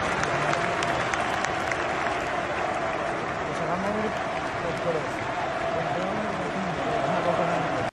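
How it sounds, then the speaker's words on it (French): Liverpool supporters in a stadium applaud, a broad, steady roar of clapping and crowd noise lasting the whole stretch, with a voice speaking over it. "les supporters de Liverpool l'applaudissent carrément"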